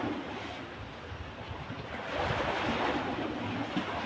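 Big sea waves wash and roar continuously nearby, a broad steady surf noise mixed with wind buffeting the microphone, rising slightly in the second half.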